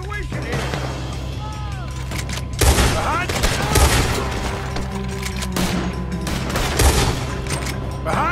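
A Red Dead Redemption 2 shootout, with repeated loud gunshots cracking in irregular volleys and several heavy bursts, plus game voices speaking between the shots.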